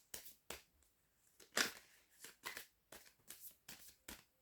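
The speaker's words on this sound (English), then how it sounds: "I'll give the cards a really good shuffle" A deck of tarot cards gets a slow, thorough shuffle, with soft papery riffles and slaps coming in irregular bursts and short pauses between them. Quiet, close and without talk.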